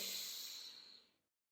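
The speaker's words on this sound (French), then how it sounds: "Inspire profondément pour te dynamiser" A deep breath drawn in during a guided relaxation exercise, a soft airy rush lasting about a second before fading to silence, close and quiet with no talking.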